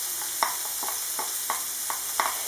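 Chopped onion in a mix of olive and sunflower oil, softly frying with regular light scrapes of a spoon stirring the pan roughly every half second, close and without talk.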